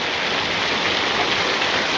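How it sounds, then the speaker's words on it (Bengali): Rain falls in a village, a dense, steady hiss of drops on surfaces with no breaks and no voices. "কথা কইতে কইতে দাদা বৃষ্টি হয়ে গেল।"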